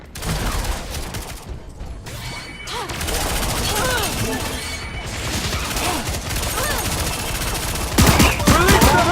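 Rapid automatic gunfire and overlapping shots in the sci-fi shooter LawBreakers, dense and loud bursts running almost continuously, with scattered impacts and a harsher volley near the end.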